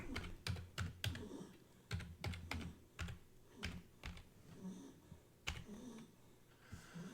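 Someone types on a computer keyboard, probably entering a password. Quiet, irregular bursts of clicking keystrokes come close by with short pauses between them, and no talking.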